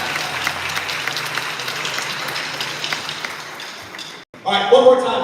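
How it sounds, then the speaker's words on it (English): At a kick-off event, an audience applauds a group of performers, a dense, loud wash of clapping that fades out before an amplified voice starts speaking. "could we have a round of applause for our fantastic sensations up here"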